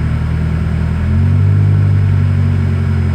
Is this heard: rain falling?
no